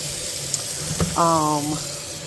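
Collard greens are washed in water at a kitchen sink: a steady running-water hiss with a brief tonal gurgle midway, close and continuous over the short span.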